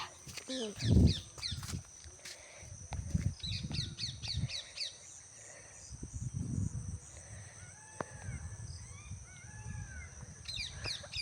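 Birds call outdoors near woodland, sharp repeated chirps and caws scattered across the stretch, some close and some farther off, while a person talks intermittently underneath.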